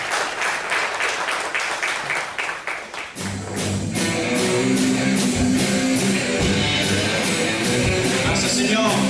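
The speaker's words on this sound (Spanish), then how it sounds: "Dale un fuerte aplauso a Jesús." A church congregation applauds during a worship service. Separate sharp claps come first, then they merge into fuller, louder applause over sustained musical tones.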